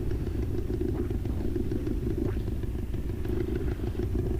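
A motorcycle engine drones loud and steady on the ride to Petty Harbour, a constant low rumble with mechanical clatter and faint wind, no voices.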